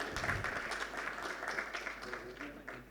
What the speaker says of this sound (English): A big round of applause for the panelists, please